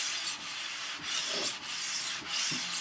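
Steady rubbing strokes of a metal hand plane sole being flattened on an abrasive surface, a repeated back-and-forth scraping rhythm at close range with light, even pressure and no voices.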